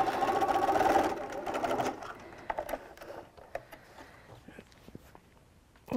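A sewing machine runs a fast, steady back stitch along the seam of a beach towel bag, loud and close for about two seconds, then gives way to quieter handling clicks and brief stops.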